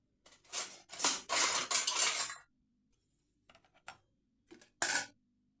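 A spoon scrapes and clinks against a bowl while ragi puttu is mixed with coconut, sugar and sesame oil: a dense run of close scraping, then a pause and a few short, sharp clinks.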